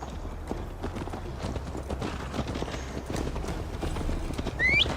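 Horse hooves clip-clop at a steady trot while riding in Assassin's Creed Valhalla, close and continuous, with a brief whinny-like squeal near the end.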